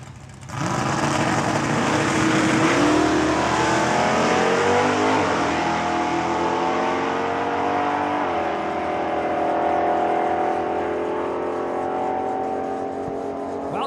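Drag racing cars including Jake Fiesel's 1987 Camaro at Saskatchewan International Raceway, loud engines launching hard and revving up through gear changes with rising pitch, roaring side by side for several seconds down the quarter mile.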